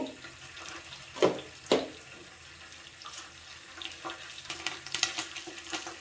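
Cumin seeds and curry leaves hitting hot coconut oil, giving a soft ongoing sizzle with a couple of sharp crackling bursts near the start and light stirring clatter, close and moderately quiet.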